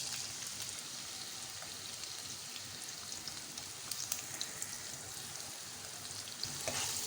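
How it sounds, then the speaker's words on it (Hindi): Onions fry in hot oil in a kadai with a continuous crackling sizzle, fairly faint and even, with light stirring scrapes now and then and no voices. "अब हम प्याज को इतना फ्राई करेंगे इसमें अच्छा सा गोल्डन कलर आ जाए"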